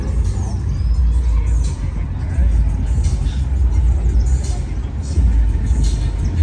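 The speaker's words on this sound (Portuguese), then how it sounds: "Deixa eu pegar o Fuca saindo aqui, ó." A Volkswagen Beetle (Fusca) pulling out of a grassy lot at a car event, its engine a steady rumble mixed with other traffic and crowd noise throughout.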